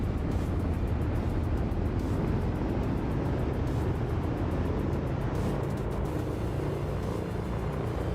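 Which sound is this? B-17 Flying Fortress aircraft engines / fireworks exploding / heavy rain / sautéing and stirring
B-17 Flying Fortress aircraft engines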